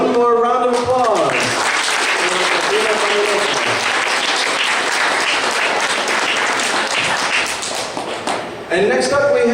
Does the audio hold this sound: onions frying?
no